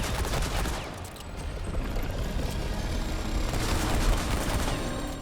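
Rapid Western Classic handgun fire from the video game Remnant 2, a dense, loud barrage of overlapping shots and impacts filling the whole stretch without pause.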